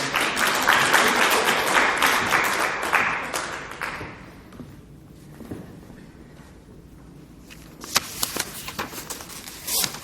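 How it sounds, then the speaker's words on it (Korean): Applause from a church congregation during a Korean sermon, a dense burst of clapping for about four seconds that fades out, followed by scattered taps and thuds in a quieter room. "박수 한번 주세요"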